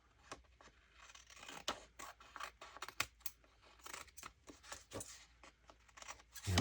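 Scissors snipping and trimming a paper piece for a guest-check ephemera craft, a quiet run of short, irregular cuts and rustles close by.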